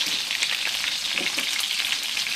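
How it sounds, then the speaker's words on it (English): Green, red and yellow peppers sizzle steadily in a hot wok, a continuous close, bright frying hiss with no voices. "Okay, so I've got my hot wok going and I'm putting in my peppers."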